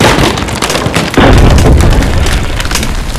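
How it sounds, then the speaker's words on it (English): A bridge collapses in a fantasy ogre battle effect: rumbling debris builds, then a heavy booming crash hits and gives way to a long, loud roar of tumbling rubble. "There's a fantastic collapsing bridge one shot that sounds like this."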